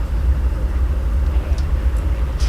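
Freight train rumbling along in a train simulator video game, a steady low engine and rail drone running continuously with faint higher squeals near the end.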